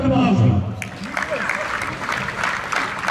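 A crowd applauds the contractors at the 2017 opening of the TC Hardenberg tennis park: a brief voice at the start, then steady, moderately loud clapping that continues to the end.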